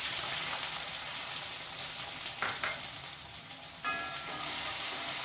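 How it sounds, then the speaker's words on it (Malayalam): Garlic and chopped shallots sizzle in hot oil with popped mustard seeds for a pumpkin-leaf stir-fry, a steady fairly quiet frying hiss broken by a few brief crackles and a stirring scrape. "കടുക് നന്നായി പൊട്ടി വന്നു, അതിലേക്ക് നമുക്കുണ്ടല്ലോ ഈ വെളുത്തുള്ളി അങ്ങോട്ട് ഇട്ട് കൊടുക്കാം."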